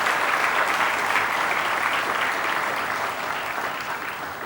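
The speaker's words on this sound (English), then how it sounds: "please give a big round of applause one more time for all our awardees tonight" A large audience at the AIMA Managing India Awards 2014 applauds the awardees, dense sustained clapping filling the hall and fading slightly toward the end.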